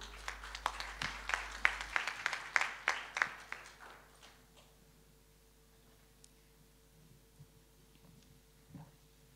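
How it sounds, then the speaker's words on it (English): Seminar audience gives a small round of applause for a panelist, a couple of seconds of sparse, distinct claps that thin out and fade to a quiet room with faint rustles. "Please give a warm applause to Ibu Amalia."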